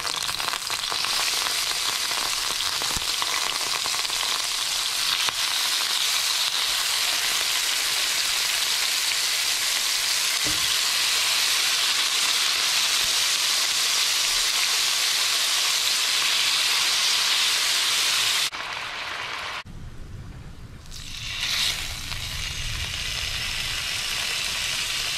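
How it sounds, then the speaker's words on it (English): Beef browning in a pan for Filipino bistek gives a loud, steady hiss and crackle of sizzling fat that fills about eighteen seconds, then drops away briefly, as if the pan is moved, before a quieter sizzle resumes. "I'm just going to brown off this meat a bit, best I can"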